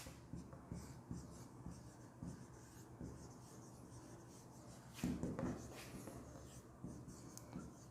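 Handwriting on a board or paper during a lesson, a faint continuous scratching and rubbing of strokes with brief pauses, quiet and close, no speech heard over it.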